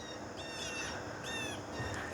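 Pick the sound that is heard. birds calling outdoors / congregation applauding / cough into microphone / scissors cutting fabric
birds calling outdoors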